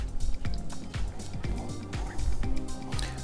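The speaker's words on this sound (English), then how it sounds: "next we're going to combine the brine into our lovely vegetables here." Brine is poured into a jar packed with vegetables for hot sauce, producing a run of gurgling glugs and splashes with sliding bubbly pitches that rise as the jar fills, close and fairly loud.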